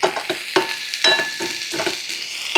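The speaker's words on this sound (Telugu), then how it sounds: "ఆల్రెడీ మా ఇంట్లో ధనియాలు నువ్వులు వేయించి ఉంటాయి, అయినా కానీ లైట్గా ఫ్రై చేస్తున్నాను" Coriander seeds, sesame seeds and cumin dry roasting lightly in a pan on low flame, with a soft continuous crackle and repeated scraping stirs at a steady rhythm, close and moderately loud.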